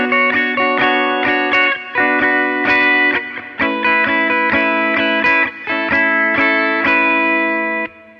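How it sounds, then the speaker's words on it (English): Electric guitar plays the main intro of a song, two chords with a small embellishment, strummed in a steady pattern with effects, distortion and reverb, loud and close with no talking. "So here is the main intro"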